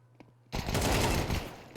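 P250 pistol fire in a Counter-Strike ESL Pro League match: after a quiet start, a dense, loud burst of gunfire fills the rest of the moment with overlapping shots.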